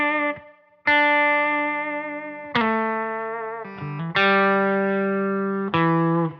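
Electric guitar on a bolt-on neck playing a few sustained chords and notes, each struck cleanly and left to ring before fading, heard close and alone with no talking.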